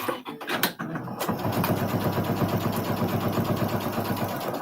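A sewing machine stitching the corners of fabric bowl cozies: a few clicks and handling sounds first, then a steady, fast mechanical stitching hum that runs close and continuous to the end, without speech.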